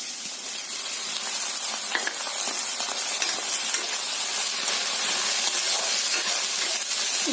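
Capsicum and mixed vegetables frying in a pan for vegetable cutlets: a continuous bright hissing sizzle with light stirring, steady and close throughout.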